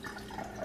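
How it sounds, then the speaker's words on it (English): Coffee drains slowly through a filter into a jar, giving a faint, soft trickle and drip close by, quiet and continuous over a short moment. "it slowly drains into my jar"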